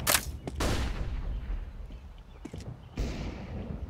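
A flashbang grenade goes off in the Counter-Strike mod for Half-Life on de_cache, with sharp, loud bursts at the start and a few more cracks later, set against in-game background noise and no speech.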